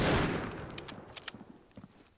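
Rapid gunfire from the mobile shooter Critical Ops opens loud and dense, then breaks into a scattered run of sharp, separate shots that grow fainter toward the end.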